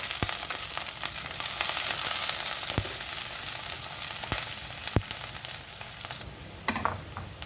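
Curry leaves frying in hot oil for a Kerala-style fish curry, a loud crackling sizzle up close with scattered sharp pops and spatula scrapes against the pan, no voices.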